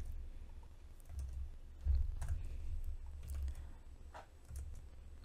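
Steady typing of code on a computer keyboard, with quiet, close key clicks in an irregular rhythm over a low background hum.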